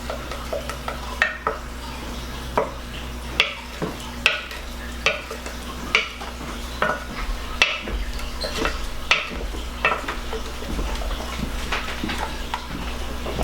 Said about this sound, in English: just press your glaze up against the sides of your bowl, and that will help to smash them down